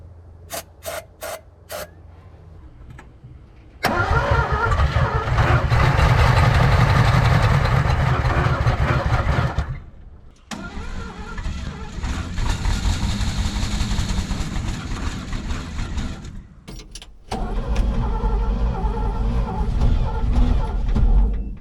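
An abandoned Chevrolet C-10, left rusting for 30 years, cranks repeatedly on a jump starter. Clicks come first, then long loud grinding cranking bursts separated by brief pauses, up close.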